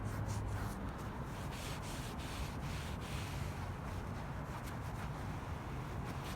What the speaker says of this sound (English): We're going to go ahead and wipe off any excess that may be on here.